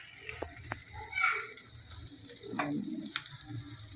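Onions frying on low heat in a pot for chicken biryani, a soft continuous sizzle with a few scrapes and clinks, fairly faint and close, with no talk.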